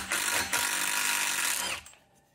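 A power tool whirs steadily for under two seconds, loosening the T45 bolt that holds the front brake rotor on a 2013 Tesla Model S, then cuts off into near silence.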